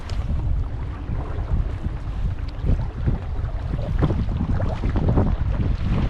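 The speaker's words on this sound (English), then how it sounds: "We got a little wind out there." Wind blowing across an Adirondack pond in spring, a steady low rumble of gusts buffeting the microphone with faint water lapping, continuous and close, no voices.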